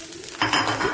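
Rice is stirred in a hot pan while nasi goreng fries, giving a short scraping clatter of spatula against metal over a steady sizzle. The scrape gets louder halfway through, and no one talks.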